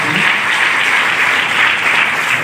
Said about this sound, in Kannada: ಅವರಿಗೆ ಜೋರಾಗಿ ಚಪ್ಪಾಳೆ